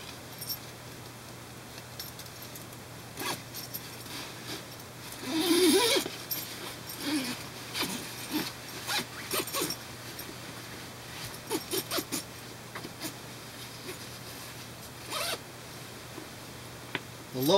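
Zippers on a hammock sleeping bag pod extender are worked in repeated short zipping runs and rasps, with fabric rustling and handling noises between them, close and fairly quiet.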